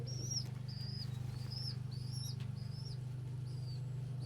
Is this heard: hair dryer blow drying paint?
no